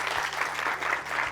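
An audience at a talk with Axel Kaiser and Joaquín García-Huidobro gives steady, dense applause, a continuous wash of many hands clapping at moderate loudness with no voices.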